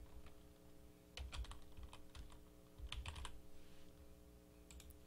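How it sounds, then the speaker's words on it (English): Keys clatter on a computer keyboard as character attributes are typed into a game, with faint scattered clicks and a few quick bursts of keystrokes against a quiet, humming room. "Oh man, my typing sometimes."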